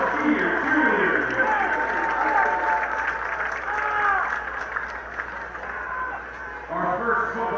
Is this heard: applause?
yes